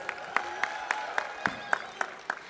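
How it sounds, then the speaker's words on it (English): Hands clap in a slow, steady rhythm at the FDDI Hyderabad 2022 convocation ceremony, about nine distinct, evenly spaced claps sounding fairly close and moderately loud. "Can you all give yourselves a huge round of applause, please?"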